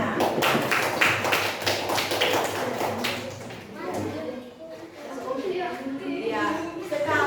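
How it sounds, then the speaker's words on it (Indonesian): A classroom of students claps for a group that has just presented, a brisk burst of hand claps that fades, with a teacher talking over and after it. "Ya, berikan tepuk tangan untuk mereka."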